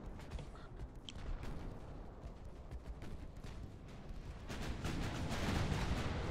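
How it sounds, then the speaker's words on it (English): Warship broadsides from the naval game Ultimate Admiral: Dreadnoughts roll on as a dense, continuous rumble of overlapping gunfire and booms, fairly distant, thickening and growing louder toward the end. "Everybody firing broadsides. Lots of hits happening all at once."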